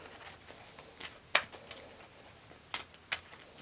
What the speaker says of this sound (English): That's 3 cards, and I need to shuffle.